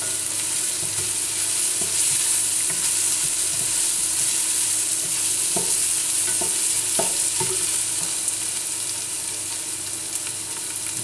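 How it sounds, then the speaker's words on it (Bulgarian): Onions fry steadily in a pan with a broad, even sizzle that fills the whole stretch, loud and close, with faint scraping stirs now and then and no voices. "запържваме леко лука"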